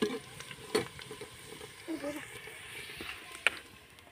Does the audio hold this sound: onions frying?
yes